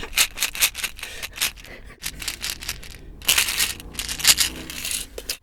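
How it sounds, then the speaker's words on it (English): Hands rummage through a purse up close, with irregular clusters of crinkling, rattling and crunching and brief quieter gaps between them. "Today we're gonna explore the sounds of my purse."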